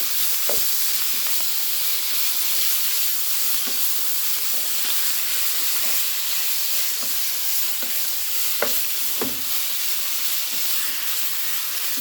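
Chicken simmers with tomato sauce in a pot for biryani, giving a loud, steady hiss and sizzle with occasional soft pops and stirring clicks throughout.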